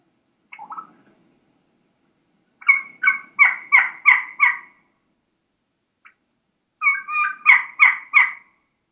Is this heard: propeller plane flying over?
no